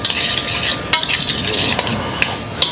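A spoon stirs a one-pot stew around a pan, giving a steady close scraping and sizzling texture broken by brief clinks of utensil against metal.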